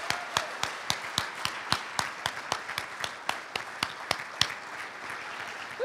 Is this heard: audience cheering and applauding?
yes